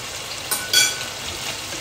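Chicken and holy basil stir-frying in a hot pan, a steady close sizzle with a couple of brief louder hisses as liquid hits the pan.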